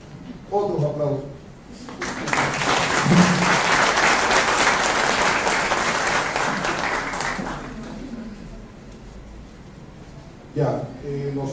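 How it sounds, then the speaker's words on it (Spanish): Seminar audience bursts into sustained applause after a voice speaks, the dense clapping swelling and holding for several seconds before tapering off as a speaker resumes talking. "Otros aplausos."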